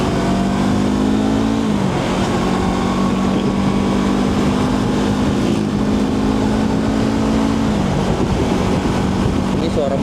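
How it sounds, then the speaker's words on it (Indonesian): A motorcycle with an aftermarket exhaust, catalytic converter still fitted, rides on a morning trip, a loud continuous engine drone with pitch shifts as it changes speed amid rushing wind. "Ini suara motornya itu pelan tapi seru itu."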